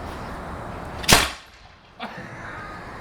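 A homemade rapid-fire potato cannon, version 2.0, goes off with one loud, sharp bang, then a smaller pop about a second later. There is no talking.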